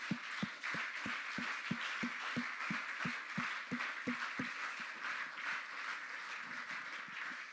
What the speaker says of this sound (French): Alors, applaudissez pour vous-même.